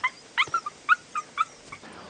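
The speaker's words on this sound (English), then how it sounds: "that damn dog! I will not beat it." Dog whimpering close by: a series of short, high-pitched whines and yips in uneven bursts, fairly loud, with no talk.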